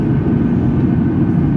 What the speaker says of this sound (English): There we go, the flaps are being extended.